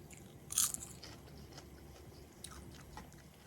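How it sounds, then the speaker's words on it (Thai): Crispy fried fish bitten and chewed up close, one sharp crunchy bite followed by quieter scattered crunches of chewing, no talking. "ปลาสุดทอดกรอบเนี่ยก็กินได้"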